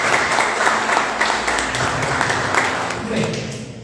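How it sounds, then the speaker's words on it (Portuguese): Church congregation applauding loudly together, a thick sustained wash of clapping that fades slightly toward the end, with voices mixed in underneath. "Você pode aplaudir o Senhor bem forte?"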